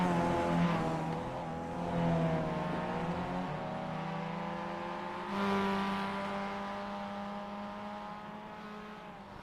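Mazda MX-5 race car engines in a racing video game on the Charlotte Roval, droning steadily with rising and falling revs and a few shifts, fairly loud throughout with no talk.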